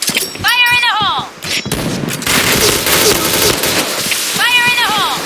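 Gunfire and blasts fill a first-person shooter match at Luxville, a dense burst of shots and booms, near and loud, with game announcer voice calls rising over the top at the start and end.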